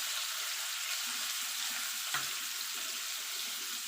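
Paneer frying in hot oil gives a steady, dense sizzle with faint stirring and one brief clink near the middle, and no one speaks.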